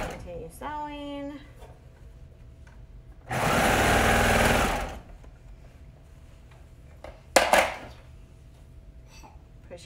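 A sewing machine runs in one short steady burst of about a second and a half, stitching a shirt seam across a cross area at a shoulder, with quieter handling noises and a brief clatter before and after.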